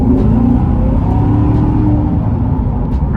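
Chevrolet C7 Corvette sports car engine accelerating, a loud, continuous, close-up roar and rising drone that holds steady throughout.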